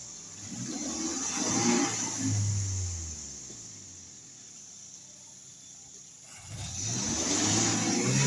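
A car engine idles and rumbles at the roadside while parking, its low hum swelling, easing down to a quieter idle, then rising again near the end.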